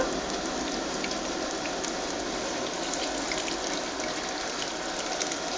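Raw banana bajji fritters, soaked in salt water and coated in gram flour batter, fry in hot oil with a steady, dense crackling sizzle that stays loud and even throughout, with no talking.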